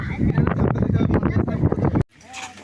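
A strong breeze blows near a banyan tree, buffeting the microphone in a loud rumbling gust for about two seconds before it suddenly drops away to a quieter background.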